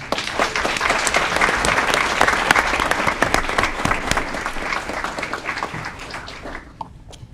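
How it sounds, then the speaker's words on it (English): Sustained applause from a graduation ceremony audience for a student, steady dense clapping throughout that thins out near the end. "Give a round of applause to Caleb Brown."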